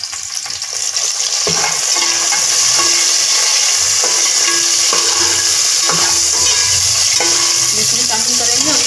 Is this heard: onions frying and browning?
yes